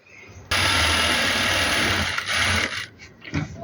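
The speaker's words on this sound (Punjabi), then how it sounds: "ਇਸ ਤੋਂ ਬਾਅਦ ਆਪਾਂ ਇਹਦੇ ਨਾਲ ਨਾਲ ਇੱਥੇ ਸਲਾਈ ਲਗਾ ਲੈਣੀ ਹੈ" A sewing machine stitches along a neckline strip on a suit, running loud and close in one steady whirring burst, then slowing into a few short stop-start pulses.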